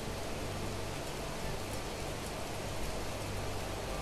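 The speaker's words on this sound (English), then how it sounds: "I suspect this is pouring rain." Heavy pouring rain in the survival crafting game Planet Crafter, a steady dense broadband hiss with low rumble that holds evenly and fairly loud throughout, with no talk over it.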